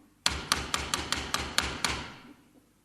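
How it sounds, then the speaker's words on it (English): Someone raps rapidly on a door in an old-time radio comedy, about eight quick, sharp knocks in an even rhythm, close and clear, trailing off into silence. "Sounds like her knock."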